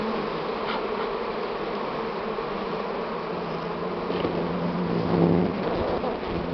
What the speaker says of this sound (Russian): Ой, сколько там пчел.